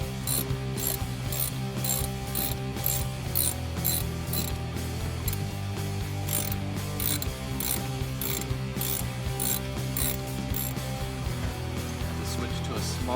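A socket ratchet loosening the 10mm shifter boot bolts on an NA Miata, its rapid pawl clicking running steadily up close throughout under a constant low mechanical hum.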